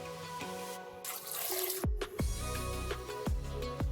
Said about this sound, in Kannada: 1 ಬೌಲ್ ಹಾಲು ಹಾಕ್ತಾ ಇದ್ದೀನಿ.